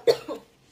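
A single close cough from a person, a sharp burst followed by a softer second push, with no talk around it.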